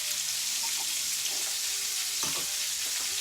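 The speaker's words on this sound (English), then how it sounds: "let that sit. I want that skin to go crispy." A cod fillet fries skin-side down in a non-stick pan, giving a steady, even sizzle with a few soft clicks and knocks near the end.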